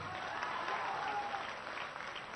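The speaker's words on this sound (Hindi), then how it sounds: "ये ताली बजाने की बात नहीं है मित्रों।" A crowd at a party workers' gathering in Begusarai, Bihar claps in a steady, fairly faint wash of applause with no voices.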